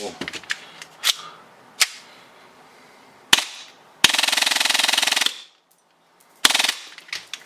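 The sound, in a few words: 3D-printed prop 22LR gun firing BBs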